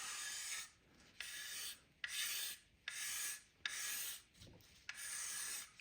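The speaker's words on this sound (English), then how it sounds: "You can see creating these stripes with the scraper." A scraper strips poly finish from an Atelier Z jazz bass neck in repeated rasping strokes, about five close, even scrapes separated by short pauses, quiet and with no talking.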